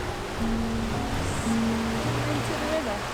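Fast-flowing river water in the Cairngorms rushes in a steady broadband wash, close and continuous, with faint tonal sounds drifting over it.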